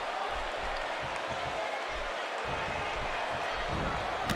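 Wrestling arena crowd in the video game WWE 2K18, a Birmingham audience at a RAW match, producing a constant loud roar with rhythmic clapping pulses as the bout gets underway.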